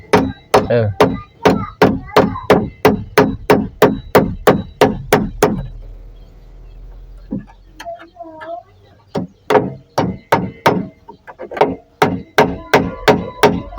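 Steady hammer blows while a bathroom roof is put on, loud close strikes in a quick even rhythm, pausing for a few seconds with a voice, then resuming.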